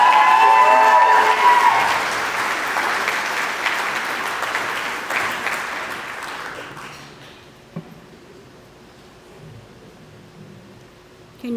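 Conference audience applauding and cheering for a keynote speaker, dense loud clapping that fades out over several seconds into a quiet room with small scattered sounds.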